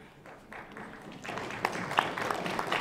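Faint applause from the audience at a summit of heads of state starts softly and builds into a denser, steady patter of clapping.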